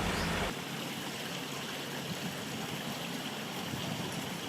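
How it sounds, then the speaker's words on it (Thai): A garden waterfall feature at a home on a golf course keeps up a steady, even rush of flowing water, close and continuous after a brief louder burst at the start. "เราอยากมีน้ำตก เขาก็เลยบอกอ่ะเอาเป็นแบบนี้ละกันให้ฟังเสียงน้ำมันไหลอยู่ตลอด"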